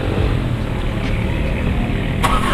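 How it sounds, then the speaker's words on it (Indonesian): A 2013 Mitsubishi Canter FE 73 box truck with about 300,000 km on it idles with a steady, loud low diesel rumble, close and unbroken, with no voices. "Nah, kita akan dengar suara mesinnya guys."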